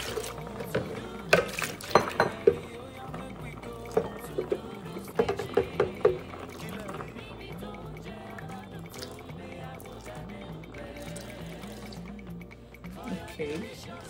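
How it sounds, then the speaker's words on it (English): Water pours and splashes into a cooking pot to rinse a spinach stew with white rice, with a burst of irregular drips and splashes early on before settling into a quieter simmering wash. "And then rinse with water."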